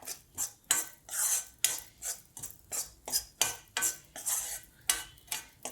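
Metal spoon stirring gram flour (besan) roasting in oil in a pan for dal kachori, scraping in a steady rhythm of about a dozen short, close, crisp strokes, with no voices.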